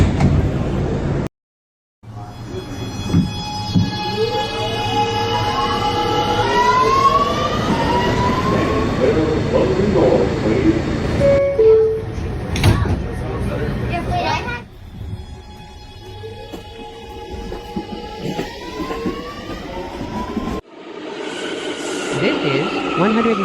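An R211 subway car on the Brooklyn-bound A express moves along the line, with a loud rumble, rising and falling whine-like motor tones, a brief dropout and a sharp burst near the middle, and children's voices and chatter in the car.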